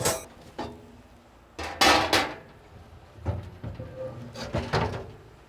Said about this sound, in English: We're going to start by taking everything out of our YS640 pellet grill.